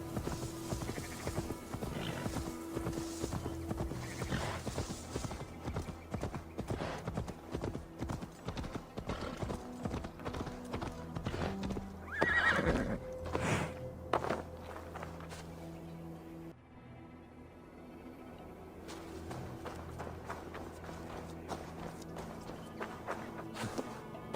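Donkey hooves clop in a steady rhythm in the Assassin's Creed Valhalla video game, moderately close over background music, with a brief louder call that may be a bray partway through, before the hoofbeats fade under the music.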